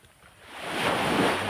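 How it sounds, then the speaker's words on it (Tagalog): Strong sea waves during a stormy fishing trip rush in, building from quiet to a loud, broad surging wash mixed with wind buffeting the microphone. "Lakas ng alon"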